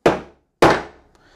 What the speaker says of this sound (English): hit it with the back of a hammer